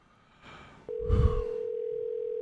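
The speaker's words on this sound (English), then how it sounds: "Ringing." A steady electronic telephone tone starts abruptly and holds at an even pitch, following a brief low thump and rustle.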